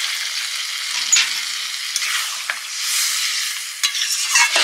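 Water hits a hot frying pan holding a pumpkin dish, giving a bright continuous hissing sizzle with occasional stirring clicks, close and fairly loud throughout.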